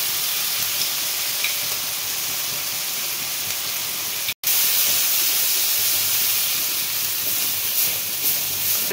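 Crab curry in a pan giving off a steady, close hiss and sizzle as chili paste goes in, with one abrupt brief dropout midway before the frying noise resumes.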